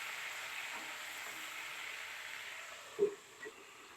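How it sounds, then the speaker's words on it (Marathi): Eggplant frying in a pan, a faint, steady sizzle with a couple of soft knocks near the end and no talking. "आता वांगे फ्राय करायला ठेवलेले आहेत"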